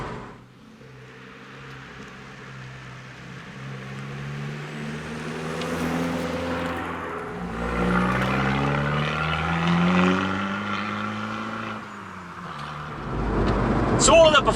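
An Abarth 695 Rivale's 1.4-litre turbocharged four-cylinder pulls through rising revs, easing off and building again near the end, moderately loud and heard alone.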